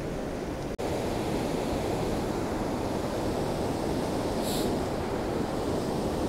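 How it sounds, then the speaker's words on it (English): Rushing water in Lydford Gorge, a steady, dense roar of flowing river heard from nearby, unbroken throughout apart from a brief click near the start. "you can hear the sound of the water already"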